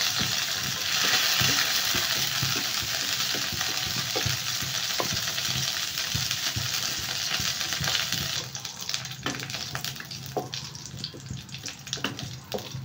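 Raisins and cashew nuts, washed beforehand, sizzle and crackle as they fry lightly in a pan, a steady broadband hiss with frequent small pops and stirring clatter, softening somewhat toward the end.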